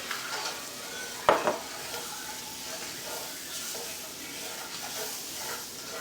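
Flour seasoned with salt and pepper cooks in a pan as the base for a steak gravy, giving a soft, steady sizzle with a sharp utensil clank against the pan early on and faint stirring throughout.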